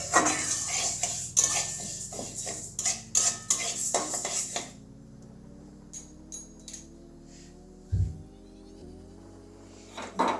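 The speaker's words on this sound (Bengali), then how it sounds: "এবার ভেজে নেব ডালটা একটু লাল লাল করে" Moong dal dry-fried and stirred in a pan, busy clattering scrapes and metal clinks for several seconds, then quieter scattered taps with a soft hum and one dull knock.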